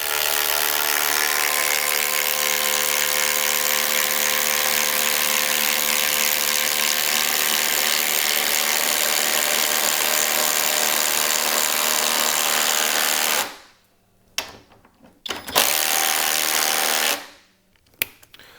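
A Flex impact driver sinks an 8 inch by 3/8 screw with a loud continuous hammering whir, then stops and gives a few short final bursts.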